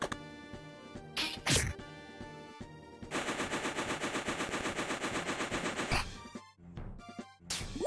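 Gunfire in the Lunar: Silver Star Story video game, a loud rapid run of repeated shots amid game sound effects and music, with sharp impacts before and after.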